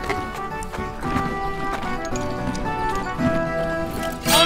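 Horse hooves clip-clopping in a steady rhythm with neighing and a tonal musical backing, fairly loud and close, with a brief sharp burst at the end.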